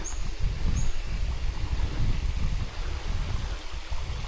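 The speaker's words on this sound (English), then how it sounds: "The waterfall's not too big," Small waterfall at JC Slaughter Falls on Mt Coot-Tha, a steady broadband rush of flowing water with low rumble, continuous and fairly close, mixed with some wind noise and a faint bird call.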